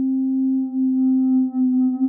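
AlchemDie synth plugin, modelled on the Make Noise Strega, set to tonic interference: a steady sine-like drone with soft harmonics above it and slight wavering dips in level, heard alone.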